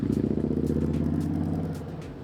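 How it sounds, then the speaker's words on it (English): A Harley-Davidson motorcycle engine idles with a low, throbbing rumble and steady pulsing beat, close by and loud. "I hear Harleys."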